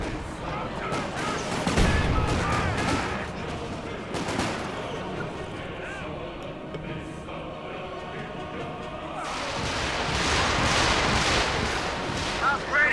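Company of Heroes 2 battle with dense gunfire and artillery rumbling continuously throughout, bursts swelling near the start and again toward the end, with a voice talking over the combat.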